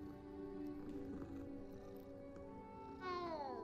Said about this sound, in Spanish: ¡Gato! ¡Amigo! ¿Cómo estás?